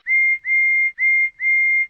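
Toby the tram engine sounds his whistle in four sharp, even toots, each a steady bright tone, loud and clear with short gaps between.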